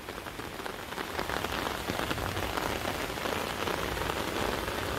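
Heavy nighttime rain falls during a flood at a small rural property, making a dense, continuous close-up roar of rain hitting surfaces that stays loud throughout, with no talking.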